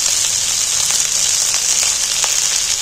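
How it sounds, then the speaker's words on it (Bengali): Spices, ginger, garlic and onion sizzle in a pan while being stirred, a loud, continuous bright hiss with scattered small crackles close by. "নাড়াচাড়া করতে করতে সব জিনিসগুলো হালকা হালকা ভাজা হয়ে গেছে"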